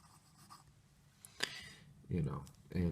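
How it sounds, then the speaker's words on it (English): Montblanc Meisterstück 146 fountain pen scratching across paper, soft faint strokes with a sharp tap, quiet and close, with a voice speaking near the end. "We'll do the standard writing, which the quick brown fox."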